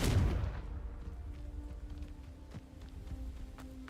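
A Confringo fire-blast spell from Hogwarts Legacy bursts in a single loud explosive boom at the start, then fades into faint rumbling and scattered small impacts.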